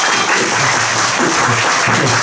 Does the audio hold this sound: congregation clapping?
yes